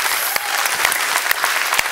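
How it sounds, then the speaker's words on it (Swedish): Audience at Young Startup Day 2018 gives a warm round of applause as Prince Daniel and entrepreneurs enter, dense and loud clapping from a crowd, steady with a few sharper individual claps standing out. "Jag tycker vi ger dem en varm applåd."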